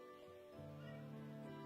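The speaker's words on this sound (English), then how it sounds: "You've been sitting there meowing for 15 minutes." A cat meows in a short, drawn-out call that rises into a sustained tonal wail, close by and fairly quiet against a low room background.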